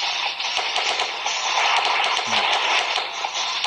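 Rapid automatic gunfire from a mobile action game on a Huawei Ascend G300 phone, a fast crackling stream of small shots at fairly high volume, broken by brief pauses.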